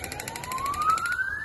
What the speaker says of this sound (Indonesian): kaget aku ada suara ambulan